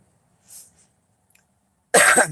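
A faint breathy sound, a pause, then one sharp, loud cough close to the microphone.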